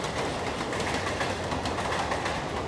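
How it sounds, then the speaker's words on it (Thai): Trains running past in the Dharavi slum area of Mumbai, a steady rumbling rail noise with rolling clatter, filling the scene at close range alongside background bird calls. "รถไฟวิ่งถี่มาก"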